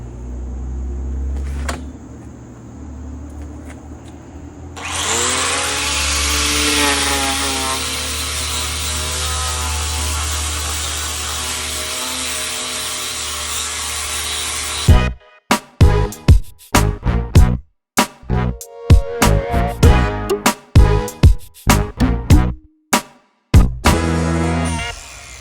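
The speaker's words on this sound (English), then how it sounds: "we will flapper disc sand them and make a big old mess" A grinder spins up to a loud, steady whine, then a flap disc bites into wooden pallet planter boxes in repeated rough bursts with short gaps between passes.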